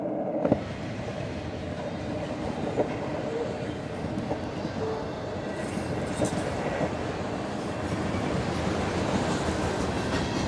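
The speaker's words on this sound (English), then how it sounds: "This train is killing my time." A train rumbles past steadily and close, with a continuous roar of wheels on rails and occasional clacks and faint squeals throughout.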